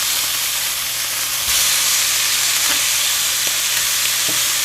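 Sausage frying in a pan sizzles loudly and steadily, a dense hiss that swells slightly partway through, with a few faint knocks from utensils.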